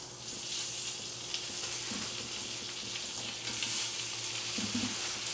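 Beef short ribs, bone side down in a hot skillet, give a steady, close frying hiss that runs the whole time, with a few soft clicks and shifts from tongs underneath.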